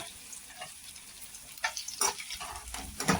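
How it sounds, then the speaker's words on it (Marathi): Chopped vegetables and slit green chillies sauté in a pan for chilli potato, with faint sizzling broken by bursts of stirring and scraping. "आता याला आपण परतून घेऊ"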